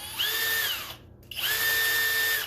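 A Skil PWRCore 12 cordless drill spins up in two short bursts, each a rising, steady whine that winds down, separated by a brief pause; close and loud with no talking.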